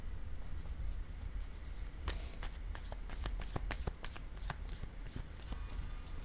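Tarot cards are shuffled and laid down on a table, giving a run of soft, close card snaps and slaps over a low background hum with no talking.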